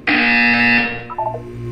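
A loud electronic buzzer in the Portal 2 video game sounds once, a harsh sustained tone lasting under a second, followed by a short trailing beep pattern and quiet hum.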